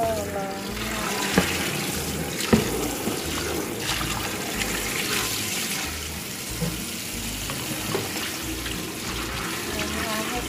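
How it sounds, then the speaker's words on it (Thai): Running water rinses mung beans in a strainer, a steady rushing splash with a few sharper knocks and clatters as the beans are shaken. "ใช้กระชองเลยก็ได้นะคะ กรองแล้วก็ล้างน้ำ"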